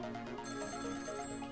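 A telephone rings steadily in the Ghost Trick video game, a continuous electronic trilling bell that is fairly loud and fills the moment alone, with no voices over it.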